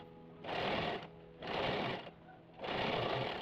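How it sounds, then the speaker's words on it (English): Sewing machine stitching pintucks along marked lines on fabric, running in three loud, steady bursts of rapid mechanical whirring with short pauses between them, close up with no talking. "I sewed along the lines to create the Pintucks."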